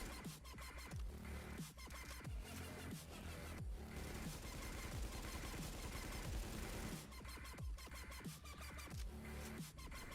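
AK-74 rifle fire in The Division, with rapid full-auto bursts of close, loud shots that stop briefly and then resume across the stretch.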